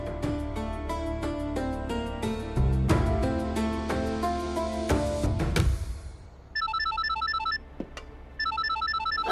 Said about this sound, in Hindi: ये फोन उठाओ ना।